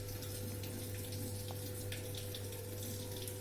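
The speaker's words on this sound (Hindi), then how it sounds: "जो डिटर्जेंट हमने डाला था वो पानी के साथ ही मिक्स होकर नीचे गिर रहा" Water mixed with detergent pours steadily into the tub of a Samsung top-loading washing machine running a tub-clean cycle, a constant rushing flow over a low mechanical hum, with no talking.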